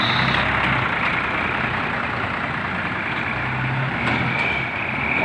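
Heavy tour bus engine rumbling as the bus pulls out of the Sunan Kudus parking lot, a steady low diesel drone with a faint hiss, continuous and close, no talk.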